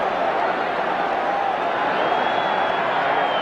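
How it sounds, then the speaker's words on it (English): Stadium crowd at the 1985 NFC Championship football game, Chicago Bears vs L.A. Rams, a steady, broad roar of thousands of fans sustained without breaks, with a faint whistle-like tone drifting through. "Everybody in this crowd just roaring and looking with anticipation."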